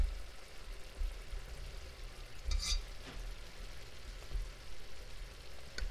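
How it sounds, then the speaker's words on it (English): A pot of vegetables for homemade bouillon, with potatoes and carrots, simmering and sizzling steadily close by, with a brief scrape or clatter of a stir midway and no talking. "Just give it another stir to make sure nothing is spending too much time on the bottom"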